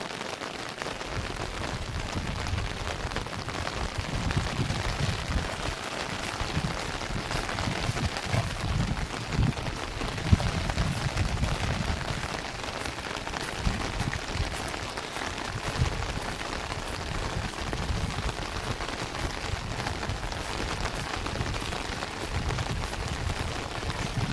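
A steady wash of heavy monsoon rain falls over flooded roads in the Konkan countryside, a continuous hiss on surfaces with scattered drops, moderately loud and unbroken.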